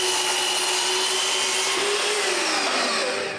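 A mitre saw tilted to an angle cuts a piece of walnut, giving a continuous loud whining buzz as the blade bites through the wood, close up and steady, with no talking.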